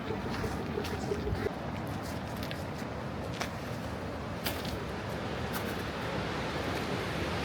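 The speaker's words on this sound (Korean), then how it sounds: "파도 소리가 듣기만 해도 시원합니다." Sea waves roll against the rocky East Sea shore below Uisangdae pavilion at Naksansa temple in Yangyang, a continuous broad roar and rush mixed with gusty wind buffeting the microphone.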